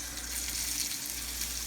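A T-bone steak sears on a grill, giving a steady, moderate sizzle with a faint low hum beneath, close and unbroken for a brief moment.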